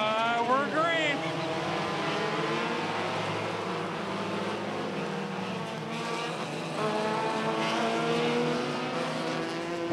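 Front-wheel-drive enduro race cars at Irwindale Speedway on the roval, a pack of engines droning and whining through gears, with overlapping pitch sweeps as cars pass and a commentator talking over the racing.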